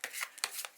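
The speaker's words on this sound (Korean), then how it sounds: "그러면 1번부터 카드를 섞어보도록 하겠습니다." Tarot cards being shuffled by hand: three or four quick, crisp riffling bursts in an irregular rhythm, close and soft, with no voices.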